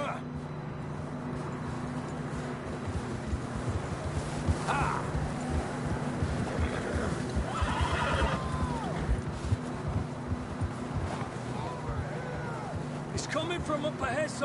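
Horse whinnies in Red Dead Redemption 2 ring out over a steady rumbling backdrop with hoofbeat-like clatter, one near the middle and a sharper pair of calls near the end.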